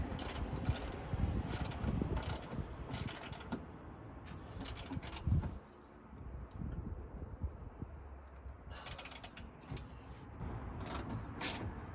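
A ratchet tightening the bolts of a seat base inside a VW T6 Transporter van, heard as bursts of rapid clicking with short pauses between strokes, fairly close and with no talk.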